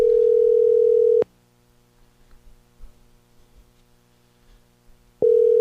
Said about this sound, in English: One ringy dingy, two ringy dingies.